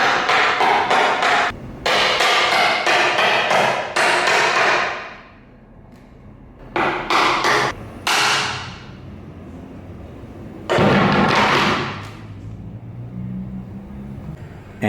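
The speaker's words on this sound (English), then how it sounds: "you can use a rubber mallet or the block of wood to just tap it in until it's centered" A rubber mallet taps bottom bracket cups into a BMX frame in bursts of quick, sharp knocks, several clusters of close, loud strikes separated by brief pauses.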